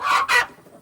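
Stout lavender Orpington hen clucking while being handled, two loud close squawking clucks in quick succession, then quiet.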